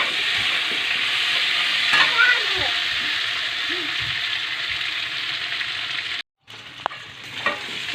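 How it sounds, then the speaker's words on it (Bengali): Potatoes fry with added ginger and garlic in a pan, a loud steady sizzle broken by scraping stirs, briefly cutting out near the end before resuming. "একটু ভালো করে আলুর সঙ্গে নেড়ে নেব।"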